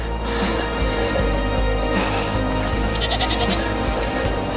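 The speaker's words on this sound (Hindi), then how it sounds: "बकरियों का झुंड।" A herd of goats bleating along a mountain footpath in Pakistan, several bleats rising over a steady outdoor rumble, with a few clearer calls standing out near the middle and later on.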